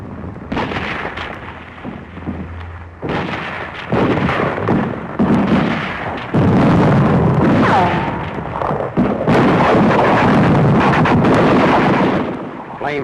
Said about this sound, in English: 55-millimeter howitzers blast Japs holed up in the legislative, agricultural, and finance buildings